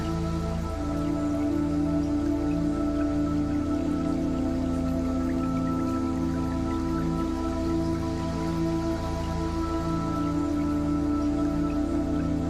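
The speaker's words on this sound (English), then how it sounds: "Tune in the sound of the water." Gentle water sounds like falling rain or dripping play steadily for the whole stretch, mixed under sustained soft tonal music with no speech.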